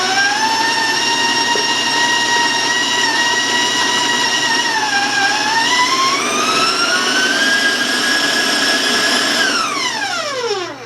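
Electric mixer whirring loudly and steadily in brownie batter for chocolate marshmallow brownies, a high motor whine that rises in pitch mid-way and winds down at the very end.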